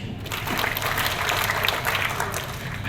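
A congregation applauds during a sermon, a continuous spread of clapping at moderate loudness that carries on without a break.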